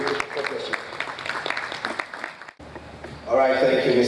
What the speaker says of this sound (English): Please, a round of applause for him once again.